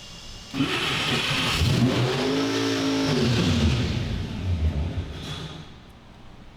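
A car engine revs up and settles back down at about 16% throttle, rising and falling in pitch, loud and close with no talking.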